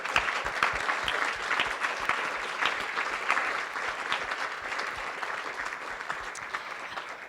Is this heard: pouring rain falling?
no